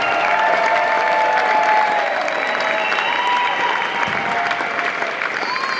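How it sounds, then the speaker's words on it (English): Audience applause and cheering at a Friday night Toys for Tots charity event, a steady wash of clapping with voices talking over it. "give yourselves a round of applause for coming out on a Friday night"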